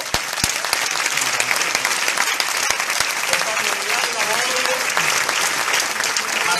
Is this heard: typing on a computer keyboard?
no